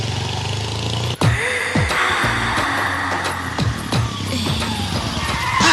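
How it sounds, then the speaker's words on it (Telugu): Car braking suddenly in a comedy scene, a loud close screech with sharp bursts and thuds over about six seconds, ending in a rising noise. "అదేంటంటే అన్సడన్ బ్రేక్ వేశారు"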